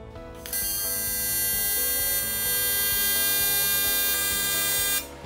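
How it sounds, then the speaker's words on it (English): A stainless steel wire brush is scrubbed over an aluminum bicycle frame joint before welding, making a steady, loud, continuous whine-like scrubbing from about half a second until just before the end, with no voices. "I'm using a stainless steel brush to clean the joint for welding."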